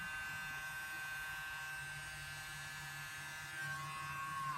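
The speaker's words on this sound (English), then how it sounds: "so I'll just blow dry, typical hairdresser, sorry, just blow dry" Hair dryer blowing over an acrylic Dutch pour painting, a steady whirring motor drone with a high whine, close and continuous throughout, rising slightly near the end.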